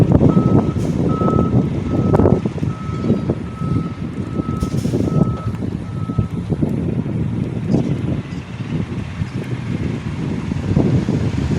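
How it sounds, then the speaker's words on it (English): A loud bus passes close by on a highway, a heavy rumbling roar that builds and fades, with a repeating high beep during the first half and wind buffeting the microphone throughout. "Let me let this bus pass. It's loud, man."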